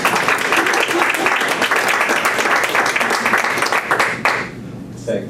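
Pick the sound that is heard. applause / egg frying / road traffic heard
applause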